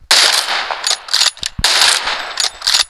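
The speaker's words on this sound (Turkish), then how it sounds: "Ona baksana ne seri seri vuruyor." Rapid automatic gunfire from a shooter video game, dense bursts of shots rattling almost continuously for nearly three seconds with a few short gaps and metallic clanks.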